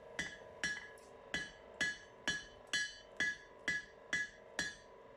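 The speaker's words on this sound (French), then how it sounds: "Je précise un peu la forme sur la corne de l'enclume." Hot steel hammered on the horn of an anvil at a forge, eleven ringing metallic strikes in a steady rhythm, each with a bright sustained ring, close and clear with no talking.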